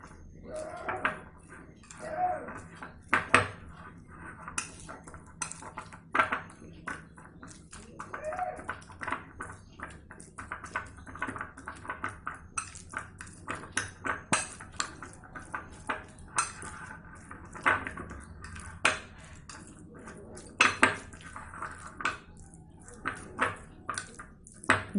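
A spoon scrapes and clinks against a bowl while garlic and chili chutney with lemon juice is stirred, giving irregular close metallic taps and scrapes with faint background hum, no talking.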